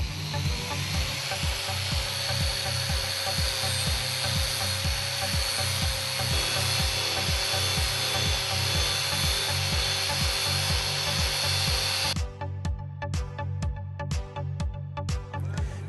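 A Big Buff finishing tool running at 7,000 RPM grinds down a steel weld with a steady, pulsing abrasive whine. Near the end it gives way to a run of sharp scraping strokes.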